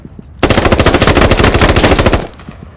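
A loud, close burst of rapid machine gun fire in the military shooter game Squad, about two seconds of evenly spaced shots that stop abruptly.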